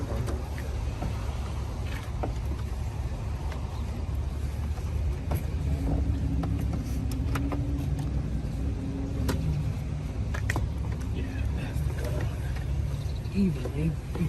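A 2009 Mercedes S550, just fitted with new ignition coils, runs with a steady low engine rumble throughout. People talk intermittently over it.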